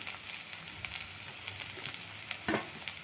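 Okra frying in a pan with peanut powder, masala and chilli powder, a steady close sizzle with soft stirring scrapes and one louder clatter near the end.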